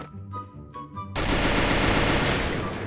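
Gunfire in the Free Fire video game, starting with a few faint game sounds, then a loud, sustained burst of rapid shots that roars on for the rest of the clip.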